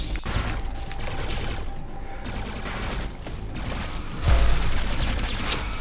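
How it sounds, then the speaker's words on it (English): Upgraded Xeno rifle fire in the PS4 game Alienation: a dense, sustained volley of rapid shots and impacts, loud and continuous, swelling into a heavier burst near the end, with no talking. "The upgraded Xeno rifle is working."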